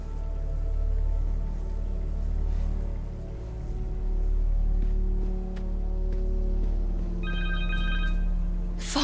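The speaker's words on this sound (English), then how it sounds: "Connor's cell phone." A cell phone rings in Marvel's Spider-Man 2, its bright electronic tone arriving near the end over a steady low drone and game ambience, with no one talking.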